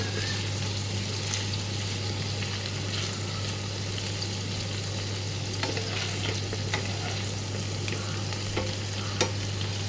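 Paneer cubes frying in a pan, a loud continuous sizzle with a steady low hum underneath and occasional small pops, close and unbroken throughout.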